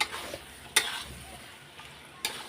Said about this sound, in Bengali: নারকলও দিয়ে দিলাম এবার কষিয়ে নেবো আরেকটু